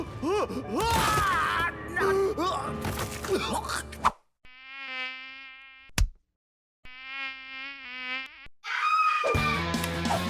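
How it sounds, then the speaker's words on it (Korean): Whining insect buzz of a mosquito in a cartoon, a thin sustained drone heard in two separate bursts between louder stretches of other sound. "모기는 왜 불만 켜면 사라질까요?"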